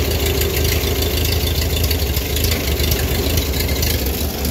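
A 1940s Ford 2N tractor engine runs nearby at a steady idle, a rough, even rumble with faint knocking and no speech.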